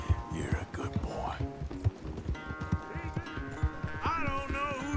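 Horse hooves clip-clop steadily through a race in Red Dead Redemption 2, with a horse snorting amid a busy mix of game music and ambient sound.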